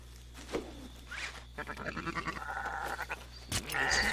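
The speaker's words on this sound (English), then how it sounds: "Yeah, there's sheep over there too." Sheep in the video game Red Dead Online give a few short bleats at moderate distance, scattered over a low steady hum and faint background noise.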